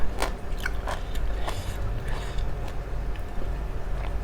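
Close, crisp biting and chewing of crunchy noodles in a Thai som tam papaya salad with crab sauce. Chomps and crunches repeat irregularly over a low background rumble, with no talk.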